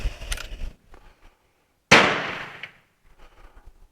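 A Carcano 1891 long rifle fires a single loud, sharp shot that blows back toward the shooter, its report decaying over about a second, after faint rustling handling noise.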